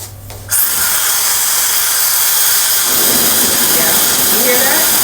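A high-speed hair dryer switches on abruptly and blows hot air in a loud, steady high-pitched whoosh with a whining motor tone, close to the microphone.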